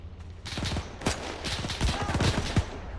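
Machine-gun fire in Arma 3 during a German Iron Front assault: a steady run of rapid automatic bursts with sharp individual reports, fairly loud and close, continuing across the whole moment without talk.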